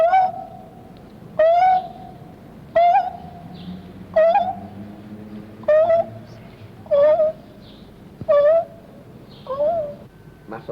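A person imitates a dove's song in a series of about eight short, hooting coos, spaced evenly at intervals of roughly a second and a half, close and clear against a quiet background.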